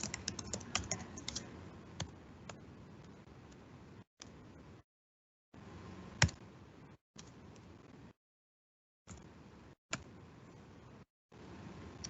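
Typing on a computer keyboard during a live online class: bursts of quick, faint key clicks separated by silent gaps, with an occasional sharper tap.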